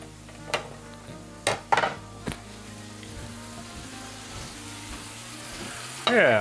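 Kale frying in cannabis oil in a pan gives a steady soft sizzle, broken by several sharp clanks of a utensil against the pan and a louder scrape at the end.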